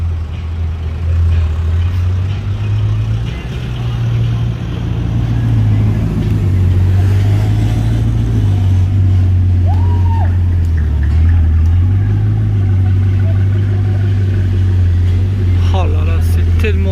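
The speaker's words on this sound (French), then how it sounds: "Du coup le convoi repasse." Steady engine rumble of a convoy of hypercars rolling past close by in Juan-les-Pins, a continuous low drone with people talking over it.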